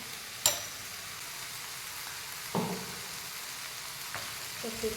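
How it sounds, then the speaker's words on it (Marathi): Cooked beans with crushed peanuts being sautéed in a pan give a soft, steady sizzle, with a few sharp spatula knocks and scrapes at irregular intervals. "शेंगदाण्याचं कूट टाकल्या टाकल्याच्या नंतर अजून दोन ते तीन मिनटं परतून द्यायचा"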